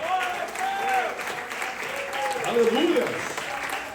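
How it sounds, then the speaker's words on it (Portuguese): A church congregation claps steadily for several seconds, with a voice shouting over the applause and talk mixed in. "Vamos dar uma salva de palmas ao Senhor."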